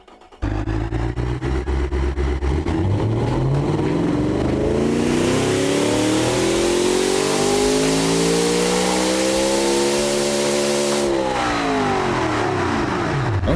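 A supercar engine in the BeamNG driving game climbs through a long, loud pull, its pitch rising steadily with a harsh roar before the revs drop away at the end.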